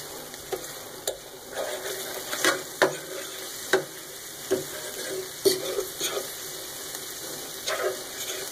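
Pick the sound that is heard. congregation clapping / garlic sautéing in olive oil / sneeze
garlic sautéing in olive oil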